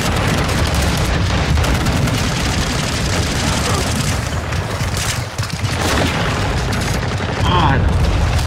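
Incendiary fire shotgun blasts in Call of Duty Modern Warfare, dense loud continuous gunfire and explosions with a brief lull, while a voice talks over the din.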